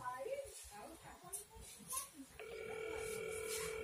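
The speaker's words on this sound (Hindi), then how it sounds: "आपको बेल सुनाई दे रहा होगा" A steady electronic ringback tone from an internet-generated phone call starts partway through and holds, following a stretch of quiet talking and faint background noise.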